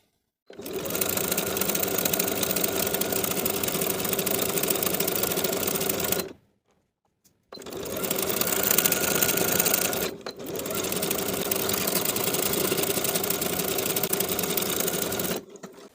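A sewing machine runs a stretch stitch along a knit jumpsuit seam from sleeve to bodice, a steady close whir in three long runs separated by short pauses.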